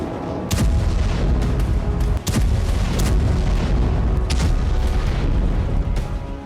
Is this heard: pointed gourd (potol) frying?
no